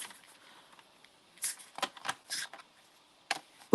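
Card being cut down for a mixed media florals card, heard as a few quiet, crisp snips and paper rustles, spaced irregularly at close range.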